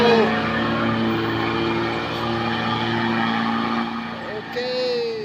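A vehicle engine strains and accelerates up a steep hill on the Trans-Sumatra road, a loud, close, steady droning hum with shifting pitch, while people talk over it.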